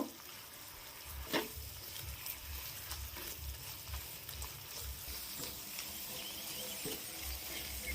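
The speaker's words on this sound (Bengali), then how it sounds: "আমি এই অবস্থাতেই নাড়তে থাকবো যতক্ষণ না চিনির কালারটা পুরো চেঞ্জ হয়ে যায়" Sugar melts in a pan for apple chutney while a spoon stirs it, giving a soft continuous sizzle with faint scraping and occasional light taps. No one talks.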